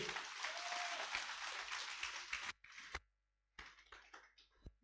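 Audience applause from a crowd at a business seminar, sustained dense clapping for about two and a half seconds that breaks off, followed by a few scattered later claps and short bursts with a silent gap between them.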